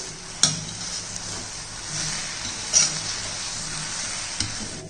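An egg sizzles as it fries in a pan while a utensil stirs it, with steady frying hiss broken by a few sharp scraping knocks against the pan.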